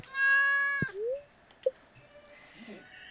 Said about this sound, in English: There's my dumb cat.